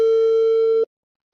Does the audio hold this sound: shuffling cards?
no